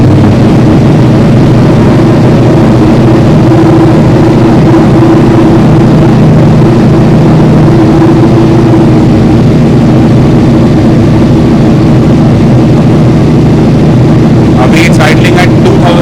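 A stage 2 remapped Kawasaki ZX-10R superbike engine fires up and settles into a loud, steady low-pitched idle around 2000 rpm, rumbling continuously up close with a brief rev or clatter near the end.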